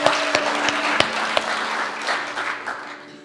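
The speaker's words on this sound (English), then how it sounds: "So let's give her a round of applause." A church congregation at a spiritual center claps for their administrator's birthday, a full steady round of applause with a few sharp louder claps near the start, fading slightly toward the end.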